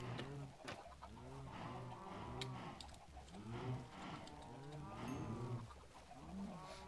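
Several Minecraft cows moo in overlapping, drawn-out calls, layered over a steady background hum, with occasional faint clicks.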